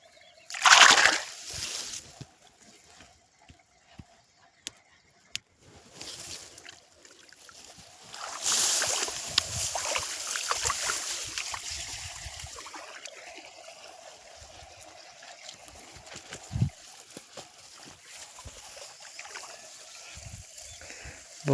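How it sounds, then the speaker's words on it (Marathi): Irrigation water trickles and splashes into a wheat field through a small channel, a steady low flow with brief louder splashy bursts near the start and middle, close by and without speech. "आता इकडं लावलं मी पाणी, इकडं पण लाविले आणि इथं पण लाविले बारीक."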